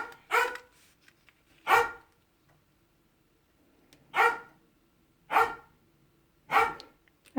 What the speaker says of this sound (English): my dogs are obviously going to interrupt my taping.